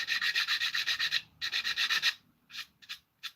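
Superglue being sanded off a plastic A-4M scale model kit, a close, steady rhythmic rasping of quick back-and-forth strokes in two long runs, followed by a few short, separate scrubs.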